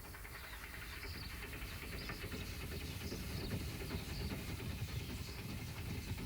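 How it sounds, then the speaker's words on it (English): A train rumbles steadily along the rails with a constant hiss and clatter, heard from inside or nearby at moderate volume. "This train is travelling over a recently reopened section of the railway."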